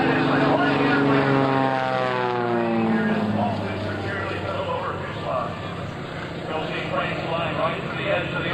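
The Oreck Cyclone airplane flying at a 2003 air show at NAS/JRB Willow Grove, a loud steady propeller drone that sweeps in pitch as it passes, with an announcer talking over it.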